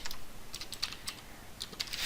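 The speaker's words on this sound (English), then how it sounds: "now I can just go ahead and I just type here" Quick, close clicks of typing on a computer keyboard come in an uneven run of keystrokes over a faint background hiss.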